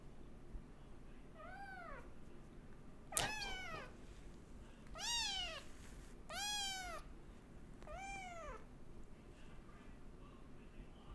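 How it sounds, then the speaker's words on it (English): Five loud, close cat meows come at uneven intervals, each a drawn-out wailing call, over a quiet room background. "this cat is loud"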